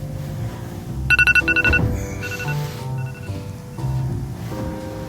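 A phone alarm rings in a quick burst of repeated electronic tones, then gives way to quieter rustling and soft shuffling.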